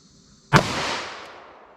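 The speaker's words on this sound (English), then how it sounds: "Let's fire the last 2 rounds into here, see how those do" A single sharp shot from a 10mm revolver firing a Hornady Custom 180 grain XTP round into ballistic gel, a loud sudden crack followed by a decaying echo, with quiet before it.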